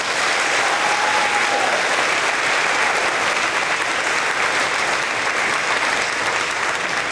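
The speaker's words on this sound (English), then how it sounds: "Please give them a round of applause." Audience applause at a fifth grade school promotion award ceremony, a loud steady wash of clapping from a full crowd sustained for about seven seconds.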